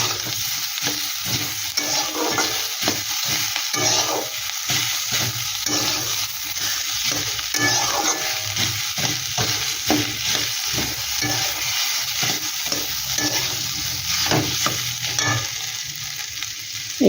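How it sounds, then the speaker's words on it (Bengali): Boiled potatoes being stirred and fried in a pan, with a steady sizzle under a regular rhythm of spatula scrapes and stirs close by, no talking. "আলু 3টে দিয়ে দিচ্ছি।"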